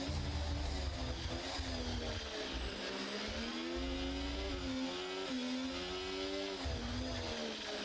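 A race car in a racing video game on the Austin circuit accelerates hard, its engine whining upward through the gears in a loud, continuous rising drone with brief shifts and dips, no talking.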